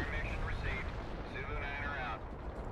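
A dense, rumbling wash of artillery explosions from the real-time strategy game World in Conflict, with blasts piling up continuously into a heavy roar that eases slightly near the end.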